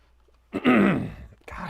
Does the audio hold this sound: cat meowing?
no